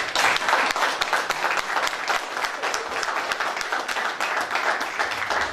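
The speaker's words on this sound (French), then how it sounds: "j'aimerais que vous applaudissiez pour quelqu'un" A crowd applauds at a press conference at La Maison de l'Afrique Mandingo in Montreal, with dense, steady clapping throughout and faint voices underneath.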